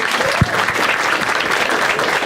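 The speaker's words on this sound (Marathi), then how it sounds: "एकदा टाळ्या होता त्या दोघांसाठी" A stand-up comedy audience claps for two people, a broad even wash of applause with one sharp low thump near the start and no speech on top.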